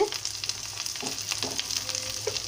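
Turmeric and cauliflower pieces fry in a hot pan, giving a steady close sizzle with occasional stirring scrapes and light crackles, no talking.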